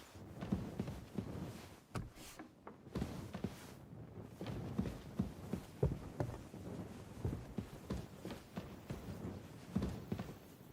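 Horse hooves clip-clop in the medieval game Kingdom Come: Deliverance II, a quiet, uneven series of close hoof thuds running through the whole stretch, with no speech.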